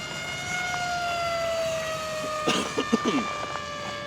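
Ritewing Mini Drak RC flying wing passing overhead with a thin, high electric motor whine that slides slowly down in pitch, faint and distant, with brief bumps of handling noise late in the pass.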